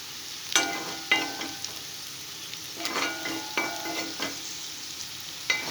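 Chicken noodles being stir-fried with scrambled egg in a hot pan: a steady sizzle broken by several scraping stirs of the spatula, close and fairly loud, with no talking.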